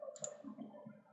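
A few quiet, close computer mouse clicks made while working in CATIA design software, short and crisp against near silence.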